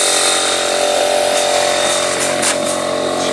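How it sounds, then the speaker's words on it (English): On a roofing jobsite, an air compressor runs loud and close, a dense steady mechanical whine and rattle that holds constant for a few seconds. "standing right next to the compressor, so it's gonna be a little loud for a second."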